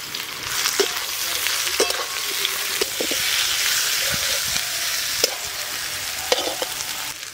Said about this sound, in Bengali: এবার আমি পেঁয়াজ কুচি দেবো